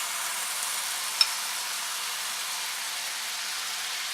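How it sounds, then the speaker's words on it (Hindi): Marinated chicken sizzles in a hot pan, a steady, soft, even hiss throughout with one tiny click, fairly faint and with no talk. "इसमें हम ये मैरिनेट की हुई चिकन डालेंगे।"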